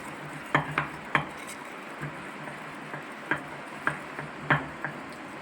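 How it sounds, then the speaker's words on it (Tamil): Maida batter for a sponge tea-shop bun is stirred in a bowl, giving sparse, faint taps and clinks of a spoon against the bowl at irregular intervals over a quiet background. "நான் இப்போ கலக்கி உங்களுக்கு காமிக்கிறேன். எல்லாம் கட்டி இல்லாமல் கலக்கி விட்டுக்கோங்க."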